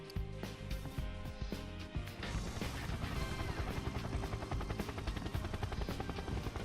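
Helicopter rotor chop in the Devil Survivor 2 video game, a rapid rhythmic thudding that builds after a few heavy hits and then runs steadily and loud, with no talking.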